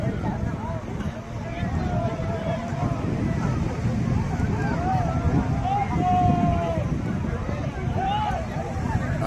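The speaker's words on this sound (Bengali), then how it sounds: "ওই দেখো ওই দূরে আসছে স্পিড বোট একটা, আওয়াজটা আশা করি শোনা যাচ্ছে" Speedboat passing far out on open water, a faint droning engine whine that rises and bends in pitch under steady wind and continuous nearby talk.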